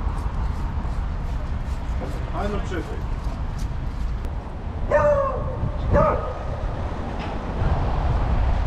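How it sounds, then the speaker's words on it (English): A dog barks a few times on a street in Lviv, short yelps rising over steady city and traffic noise with people talking nearby. "What's the dog doing?"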